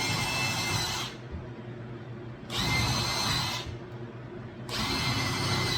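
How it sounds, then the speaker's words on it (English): Power drill boring screw holes into wood for DIY storage shelves, three long whirring bursts separated by brief pauses, close and steady, with no talking. "No, I'm not drilling all the way through to the plywood."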